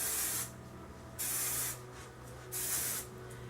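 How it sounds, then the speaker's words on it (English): Three bursts of hairspray hiss onto braided hair, each lasting about half a second with short gaps between, close and clear over a quiet background. "I'm just going to spray that in to finish it."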